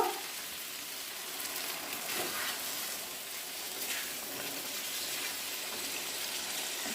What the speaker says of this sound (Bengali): এখন এর মধ্যে পরিমাণ মতো জল দিয়ে দেব।